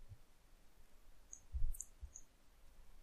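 Soft computer mouse clicks during a Windows Server 2012 R2 installation wizard, a few quiet isolated taps spread across a near-silent room.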